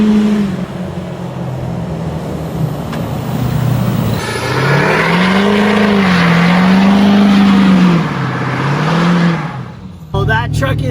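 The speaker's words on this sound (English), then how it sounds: "that truck is absolutely ripping" Lifted truck engine revving hard while driving on a road trip, a loud sustained roar with rising and falling pitch swells, close and steady, with other sounds faintly mixed in.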